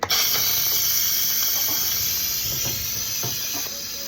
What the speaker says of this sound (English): So now we're gonna push the release button on the Instant Pot